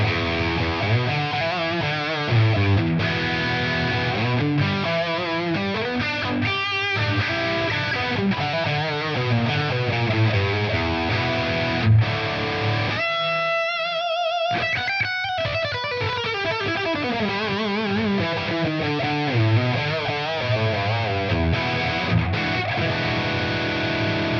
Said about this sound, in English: this is this amp wide open, about as much gain as you're going to get out of it